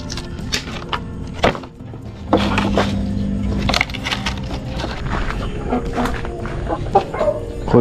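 A chicken clucks repeatedly at close range while being handled, its calls mixed with rustling and wooden knocks.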